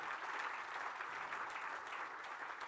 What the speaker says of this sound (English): A round of applause again for Gillian.